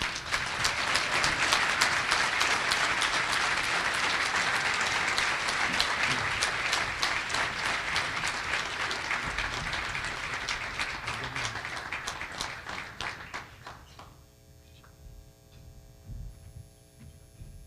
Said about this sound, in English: I really like to hear loud clapping